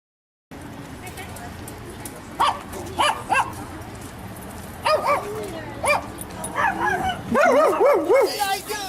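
A dog barks, yips and whimpers in a series of sharp bursts, growing more frequent and agitated toward the end, heard from a played recording with a faint room hiss behind it.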